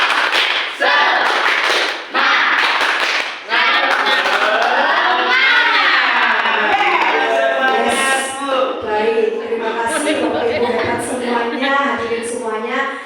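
A group at a teacher dissemination session performs a rhythmic clapping chant, starting with bursts of loud unison claps and then moving into sung or chanted voices with further claps, close and lively throughout.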